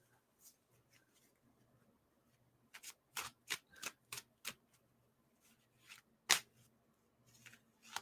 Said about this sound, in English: this edition is very difficult to shuffle. I can barely shuffle it.